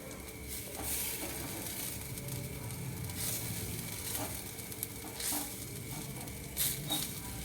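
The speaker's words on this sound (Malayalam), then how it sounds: "4 ചുള വെളുത്തുള്ളി, 2 തണ്ട് കറിവേപ്പില അത്ര ഇട്ടിട്ട് വെളിച്ചെണ്ണയിൽ വറുത്തെടുക്കുകയാണ്." Four garlic cloves and two sprigs of curry leaves fry in coconut oil, a continuous low crackling sizzle with occasional stirring taps and light spatters.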